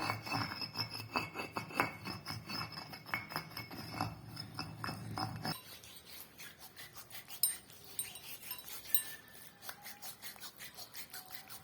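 Stone pestle edge being rubbed clean, a quiet dry scraping and grinding that softens halfway, with light clinks and scratches.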